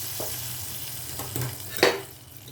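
Hot tempering poured into cooked dal and stirred in, with a soft sizzle and a few scraping stirs near the pan, rising to a brief crackling burst near the end.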